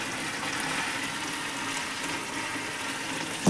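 Chicken sautéing in a kadai gives off a steady, dense sizzle that hisses evenly throughout, close and moderately loud, with a brief clatter at the very end.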